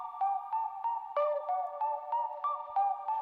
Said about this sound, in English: You hear it getting the distortion.